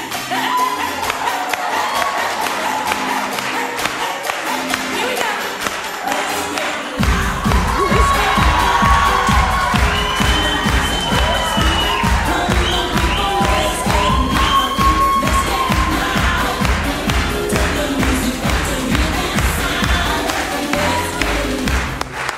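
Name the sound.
audience applause and cheering after a dance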